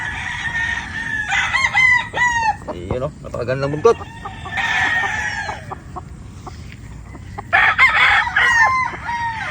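Gamefarm Straight Sweater chicken sounds fill the clip: repeated clucks and squawky calls, with a crow-like cry, while someone talks over them nearby.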